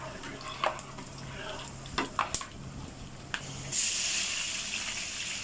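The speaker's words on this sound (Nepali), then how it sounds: "यसलाई राम्रोसँग भुनेर रातो ब्राउन बनाउनु होला" Whole spices frying in hot oil and stirred for a mutton curry, soft sizzle under several sharp clicks of a spoon against the pan, then a louder burst of hissing near the end; close, no talk.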